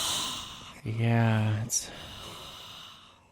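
A man imitates Darth Vader with heavy, rasping breaths, one long loud exhale lasting about a second, set between quiet bits of talk in a casual podcast chat.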